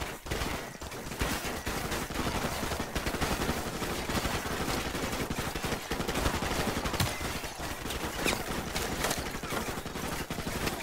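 Rapid gunfire rattles through a firefight in Call of Duty Modern Warfare Remastered, dense bursts of automatic and single shots overlapping loudly and almost without pause, with no talking.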